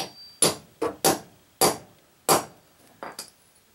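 Seven or so sharp metallic taps of a punch marking concrete for drilling, in an uneven rhythm, close and crisp, each ringing briefly before the next strike. No voices.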